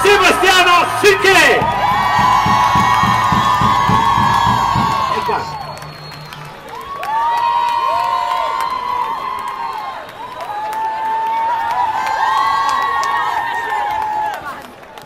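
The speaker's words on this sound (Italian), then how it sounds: "vorrei che faceste ancora un grande applauso a tutti i personaggi usciti finora" A crowd at the Pont Saint-Martin carnival's historical characters presentation claps and cheers loudly, with whoops and shouts in sustained waves, while music or an announcer's voice carries over the din.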